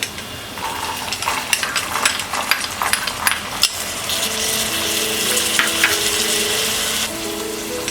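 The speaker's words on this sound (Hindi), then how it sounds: "अब हम इसमें डालेंगे बाकी सारे वेजीज, ये ग्रीन पीस" Green peas and other vegetables tipped into a pan of softened frying onions for broken-wheat daliya khichdi with moong dal, a spatula clattering and stirring over a steady, close sizzle.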